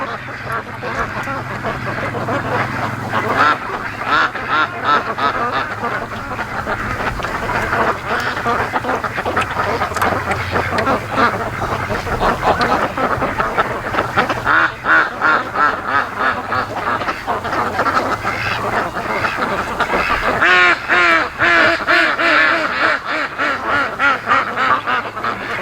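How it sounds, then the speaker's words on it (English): Ducks on a lake quack repeatedly in a busy, close chorus that runs on without pause, with some honking calls mixed in and faint voices murmuring beneath. "The ducks are curious about us. They keep coming over here."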